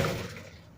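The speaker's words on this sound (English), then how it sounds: "he knocked some glass out" Glass breaks out of a microwave being smashed apart: a single short crash that rings briefly and quickly fades.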